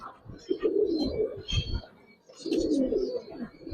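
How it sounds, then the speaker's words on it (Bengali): A young male pigeon at a loft coos in two deep, throaty rolling bursts separated by a short pause, close and fairly loud, with light chirps from other birds in the background. "নর একটা কবুতর, একবারে ছোট ছোট। ও খুব ডাকতেছিল শুরুতে"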